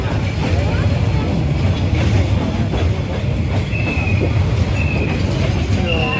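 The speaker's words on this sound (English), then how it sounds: "people riding on that train. That's funny. It's a real train." A tourist train in Hanoi, Vietnam, rumbles steadily past at close range, wheels clattering on the rails with occasional high squeals, a continuous heavy roar throughout.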